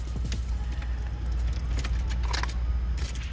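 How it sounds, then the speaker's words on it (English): A car key jingles on its ring and is slid into the ignition, the close metallic rattle sitting over a steady low rumble with no talking. "let's stick the key in and see if that's our ignition wire"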